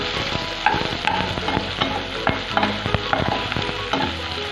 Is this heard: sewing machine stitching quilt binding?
no